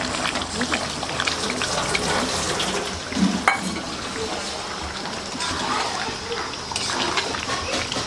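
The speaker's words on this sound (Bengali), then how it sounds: "মাংস ফুটছে বন্ধুরা গরম গরম বার্থডে বয় খাবে আমি একটু নেড়ে দিই" Meat boiling in a pot while being stirred, a dense bubbling, watery rumble with sloshing and scraping close up, and voices faintly audible in the room.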